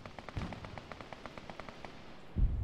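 Explosion in the military shooter Arma 3, heard as a loud low boom near the end, following a run of faint rapid crackling pops.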